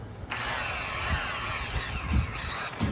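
A foam pad on a power tool polishes a 19-year-old Mitsubishi EVO9 headlight with diminishing abrasive, giving a steady high motor whine with small bumps of pad contact throughout.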